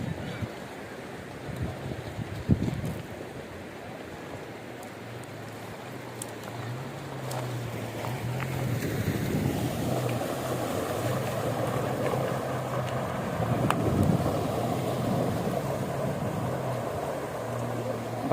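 Fast, cold floodwater rushing after fresh rain in the Jebel Akhdar mountains of Oman, a steady broad roar of moving water that swells slightly midway, with a low engine-like hum underneath.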